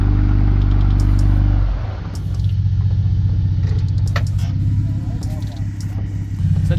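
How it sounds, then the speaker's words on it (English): Off-road on a rocky track, a 4WD revs hard as a wheel spins without the diff lock engaged; a loud engine roar drops sharply, then a lower steady rumble continues with scattered rattles while a person talks over it. "wheel spinning."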